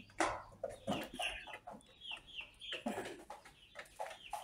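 Chickens cluck repeatedly in a semi-free-range backyard pen, with several overlapping bird calls coming close and fairly loud throughout, with no talking.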